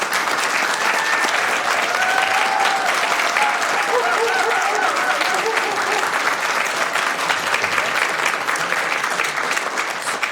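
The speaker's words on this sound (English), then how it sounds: "let's give him a big round of applause." Sustained applause fills a Sacramento city council meeting chamber as a retiree is honored, a steady dense patter of many hands clapping for about ten seconds without letting up.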